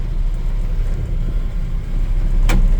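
A 1956 Chevy 3100 pickup truck being driven while shifting gears, heard from inside as a loud, continuous low engine and road rumble with a brief dip and a short sharp click near the end.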